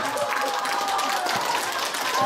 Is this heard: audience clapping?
yes